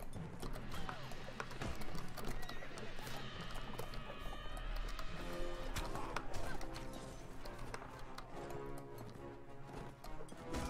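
Horses gallop in the Mount & Blade Warband video game, a rapid clatter of hooves amid a busy battle mix with an occasional whinny, continuous and moderately loud.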